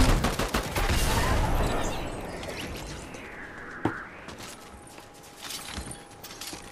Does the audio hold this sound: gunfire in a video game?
yes